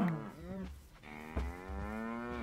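Cows mooing in a video game, two long, low, drawn-out moos one after the other, clear and fairly close over a quiet background.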